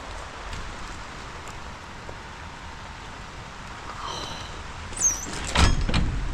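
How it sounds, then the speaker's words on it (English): Gentle rain patters on a greenhouse in a soft, steady wash. A couple of brief louder knocks or rustles come near the end. "It's raining now. Can you hear it?"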